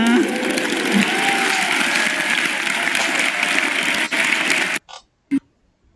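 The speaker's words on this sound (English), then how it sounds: "Let's give a round of applause to our heavenly parents and our true parents." A crowd at a Monday CheonBo Club meeting claps loudly and continuously for about five seconds, with a voice briefly heard over the applause, before it cuts off abruptly into near silence.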